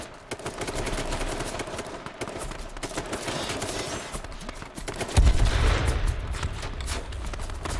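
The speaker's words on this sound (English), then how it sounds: "I hit him 17 times with a shotgun." Rapid, loud video-game shotgun blasts fire in a dense, continuous volley from an online doubles match, with a heavier thump near the end.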